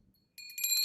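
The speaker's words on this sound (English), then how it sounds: "he gets his little bell. He's a little Tinkerbell. He gets his own sound." Short bright bell sound effect of the tinkling kind, a sudden high shimmering ring that kicks in after a brief silence and swells over a fraction of a second, alone and clean.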